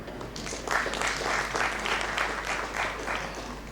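An audience at an architecture and interior design debate event in Indore claps steadily, a dense wash of many hands sustained for several seconds at moderate distance.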